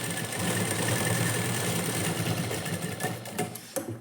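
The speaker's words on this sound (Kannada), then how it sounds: "ಅಲ್ಲೂ ಕೂಡ ಸ್ಟಿಚ್ ಹಾಕೋಬೇಕು" A sewing machine runs steadily while stitching the lining of a blouse, a continuous close whirring hum that slows and stutters into a few brief stops near the end.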